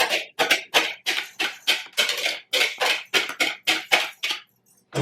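Toasted pine nuts and Pecorino Romano cheese are folded into a Brussels sprout salad in a bowl, giving a rapid run of close, crisp scraping and tossing strokes about three per second before a brief pause.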